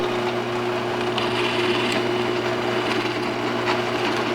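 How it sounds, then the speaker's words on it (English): A drill press bores into wood with a brad point bit, a steady close motor whine under continuous grinding, chip-throwing noise, with no pauses across the few seconds. "So Sedge, why would we use the drill press instead of the handheld drill in this case?"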